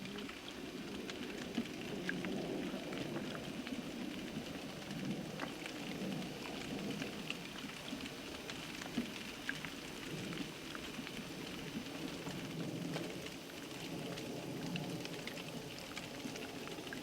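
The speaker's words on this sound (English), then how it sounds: "Now it's raining." Steady rain patters on a surface for a long stretch, a constant soft hiss with scattered drops, moderately distant and with no voices.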